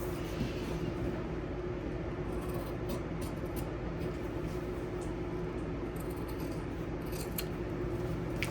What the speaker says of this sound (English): I like my scissors a little bit more